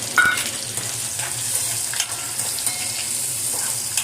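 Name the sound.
onion and garlic frying in oil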